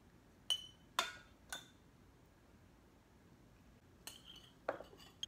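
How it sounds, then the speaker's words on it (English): Kimchi being packed into a glass jar, with a few sharp clinks and knocks of a utensil against glass spaced out over a quiet background, close and distinct, no talking. "So the last step, we just need to jar the kimchi."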